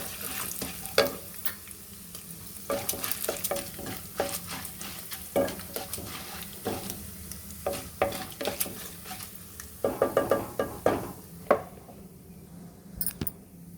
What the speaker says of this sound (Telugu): ఇదిగోండి 3 ఎండుమిర్చి వేసేసుకుంటున్నా. ఇవి కాస్త వేగాలి.